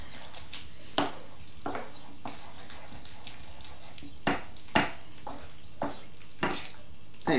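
Risotto with butter stirred in a hot pan: a steady close sizzle runs throughout, broken by sharp scraping strokes of the spoon at irregular intervals.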